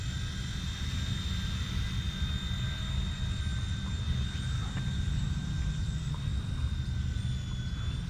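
An Eachine E129 beginner RC helicopter hovers nearby with a steady high-pitched motor whine and a whirring rotor hum held at an even level throughout.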